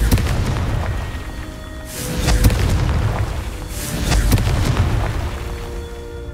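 A Confringo spell in Hogwarts Legacy sets off explosions, two deep booming blasts about two seconds apart, each with a crackling burst and a rumbling tail, loud and close with no talking.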